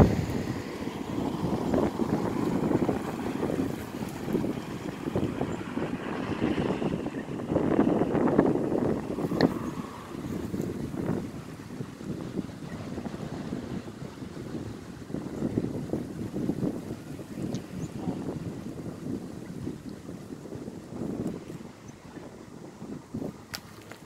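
Strong wind blows steadily outdoors near a flowering crabapple tree, roaring and buffeting the microphone in gusts for the whole stretch, with no talking.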